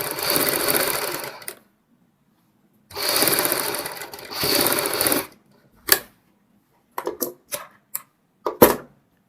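A sewing machine stitches a sherwani jacket in several loud close bursts of running, the first ones long, then a string of short stops and starts.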